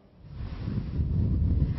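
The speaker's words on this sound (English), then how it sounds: "Blizzard conditions out here." Strong blizzard wind on Plum Island, a dense low roar buffeting the microphone and building steadily louder, with no voices.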